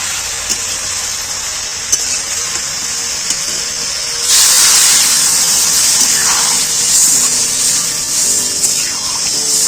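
Water poured into a hot pan of prawn curry, setting off a loud, close, steady sizzle and hiss that surges suddenly partway through and keeps bubbling on.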